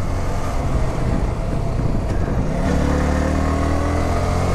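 Engine of a Yamaha R15 motorcycle on a winding hill road, a close buzzing drone that dips briefly and then rises again as the rider pulls on, with no talking.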